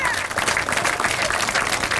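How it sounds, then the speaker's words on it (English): Audience at an outdoor school groundbreaking and time capsule ceremony applauding, a dense burst of crowd clapping filling the whole moment, with a voice faintly present underneath. "If we could have a round of applause"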